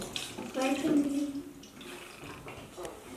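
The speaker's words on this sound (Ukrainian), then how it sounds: "Наливай, будь ласка, це ситечко, а Олечка наливає в то ситечко." Liquid containing crystals poured through a small sieve in a classroom crystallization experiment, short splashing and trickling bursts close by, with people talking over it.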